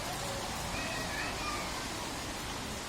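Steady seasonal rain drizzle falls at night, heard from a rooftop terrace as an even, continuous hiss with no clear individual drops.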